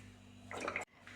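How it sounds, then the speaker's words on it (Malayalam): Cooking oil poured into a wok (cheenachatti) for deep frying, a short liquid splash and trickle lasting about half a second before stopping abruptly, alone over quiet room hum. "അതിലേക്ക് നമുക്ക് കുറച്ച് എണ്ണ ഒഴിച്ച് കൊടുക്കാം"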